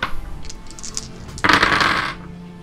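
Dice rattle and drop onto a tabletop during a tabletop role-playing session, a brief clattering burst of hard small pieces bouncing and settling, close and fairly loud after a quieter stretch of light handling noise.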